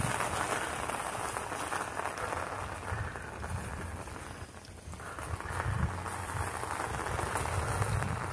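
Steady rain falls outdoors in a continuous, even hiss of dense drops hitting surfaces, fairly distant and soft, with a brief lull midway and no talking.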